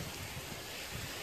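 Torrential rain pours down in a dense, constant hiss and patter, heard from under a bridge, with no gaps or voices.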